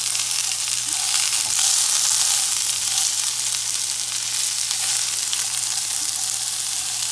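Corn tortillas frying in a pan for migas, a loud, continuous bright sizzle with small crackles throughout and no talking.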